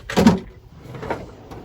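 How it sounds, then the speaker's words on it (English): A deep drawer in a Burstner Citycar 640 camper van slides with a short thud, followed by fainter rattles and a soft click as it settles, close by with no talk. "nice big drawer for all your pots and pans"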